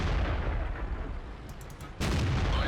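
Over a low rumbling battlefield ambience in World of Tanks, a tank cannon fires once near the end with a sudden, loud boom.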